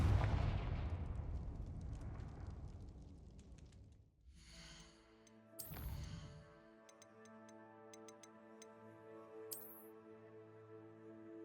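A Confringo fire spell blast in the Hogwarts Legacy video game erupts with a loud booming burst that decays into ringing, tonal magical shimmer and a second sharp crack, with no talk over it.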